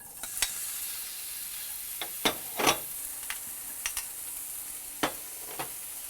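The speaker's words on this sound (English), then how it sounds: "Now, I've got a hot saute pan with a tiny little bit of oil." Vegetables char in a hot sauté pan with a small amount of oil, a steady sizzle broken by several sharp pops and spatters.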